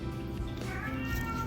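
A cat meows once, a clear, moderately loud drawn-out call rising over a steady indoor background hum.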